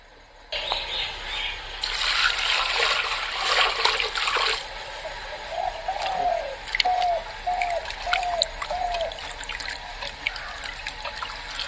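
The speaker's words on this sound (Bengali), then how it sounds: "মাংসগুলো এখন ভালো করে ধুয়ে নেই।" Pork pieces are washed by hand in water outdoors, with splashing and trickling close by, and a run of repeated bird calls chirping in the background partway through.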